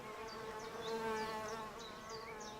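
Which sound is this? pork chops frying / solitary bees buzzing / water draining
solitary bees buzzing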